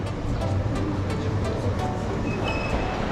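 A Hankyu electric train running from Shijo-Kawaramachi toward Arashiyama in Kyoto rumbles along steadily, with rhythmic wheel clacks over rail joints and a faint whine later; no talking.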